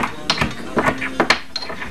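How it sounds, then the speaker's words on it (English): Black peppercorns crack in a pepper grinder, turned by hand in several short ratcheting bursts, close and crisp with brief pauses between twists. "And we need some black peppercorns. Take and grind these up."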